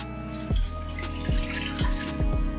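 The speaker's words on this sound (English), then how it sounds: "Water." Tap water runs for cooking pasta, a steady splashing stream broken by several short gurgling drops in pitch, close and alone.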